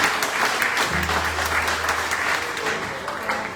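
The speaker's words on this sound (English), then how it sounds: "Let's give Mary Lou a nice round of applause, everybody." Audience at a polka festival concertina concert applauds warmly, a loud continuous patter of many hands, with a low instrument drone sounding beneath part of it.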